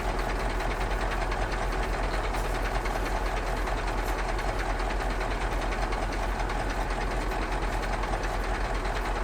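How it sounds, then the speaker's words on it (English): A train rumbles steadily along a railway line in the driving game Euro Truck Simulator 2, a loud, continuous engine drone and wheel noise with no voice. "I'm just going to follow the train if I can."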